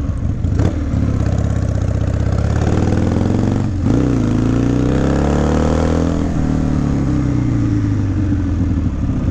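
A 1997 Harley-Davidson Sportster XL1200S engine with a stage one kit runs close by, dipping briefly then revving up with a rising, throaty pitch before settling into a steady drone.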